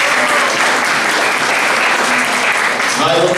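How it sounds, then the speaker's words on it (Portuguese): Loud, sustained applause from an audience at a beauty workshop, dense clapping that continues evenly with a voice briefly audible near the end. "Salve de palmas de novo para o amigo."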